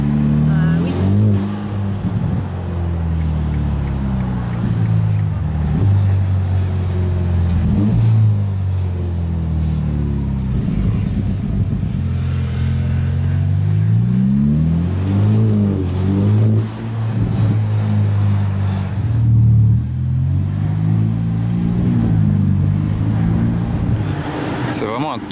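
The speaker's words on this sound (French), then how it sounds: "On sent bien le turbo." A Ferrari turbo engine runs loud and close in Monaco, pitch climbing and dropping through repeated bursts of acceleration, with a brief voice heard over it.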